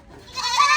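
A goat bleats on a small farm, one rising, wavering call that swells louder toward the end, close by and alone without talk.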